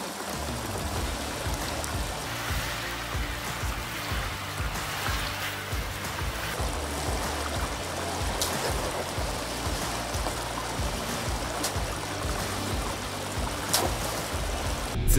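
A Land Cruiser drives up a natural river on a mountain off-road course, with a steady rush of splashing, trickling water and a low engine rumble beneath it throughout.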